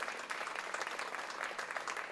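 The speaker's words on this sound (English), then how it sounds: "can we all give him also a huge round of applause?" An audience claps continuously for a church reverend at a charitable event visited by a governor, a dense and fairly even round of applause with no voices on top.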